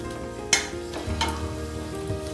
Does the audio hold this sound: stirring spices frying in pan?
yes